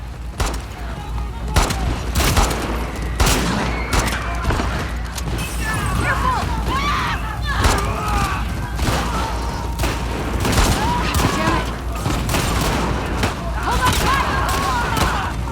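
Rapid gunfire in The Last of Us Part II, sharp repeated shots cracking throughout in a loud, dense fusillade over game noise, with a player talking over it at times.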